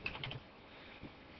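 Keys on a computer keyboard pressed in a short burst while a password is entered, a quick cluster of light clicks at the start followed by a near-silent pause and one more faint tap.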